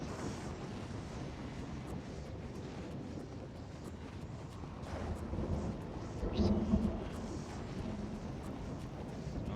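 A storm-like magic spell effect in Oblivion Remastered: a continuous rumbling roar like thunder and rain, with crackling bursts. It swells to a heavier peak near the end.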